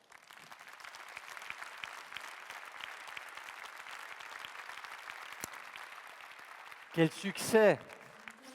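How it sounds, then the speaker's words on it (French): A congress audience applauds steadily for about seven seconds at moderate volume, then the clapping gives way to a voice speaking close to the microphone. "ça fait chaud au cœur d'entendre tous ces applaudissements"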